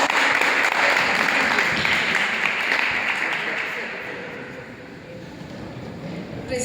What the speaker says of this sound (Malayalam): എല്ലാവരും കൈയടിച്ച് സഹോദരി